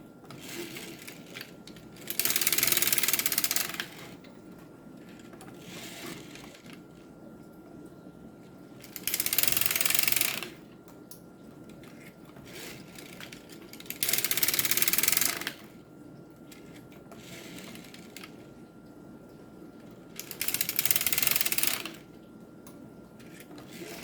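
A Dean circular sock knitting machine cranked by hand, with four loud bursts of rapid mechanical clatter roughly every five to six seconds and quieter ticking and whirring between them, close by and with no speech.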